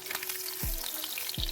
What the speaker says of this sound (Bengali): কাঁচা পেঁয়াজ এর একটু লবণ দিয়ে সেটাকে আমি এবার ভেজে নিচ্ছি